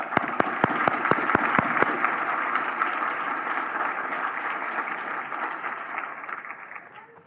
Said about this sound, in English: Let's do one more big round of applause for our